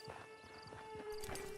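Horse hooves clip-clop steadily in Red Dead Redemption 2 Online, a quiet, even walking rhythm over a soft sustained tone in the game's background.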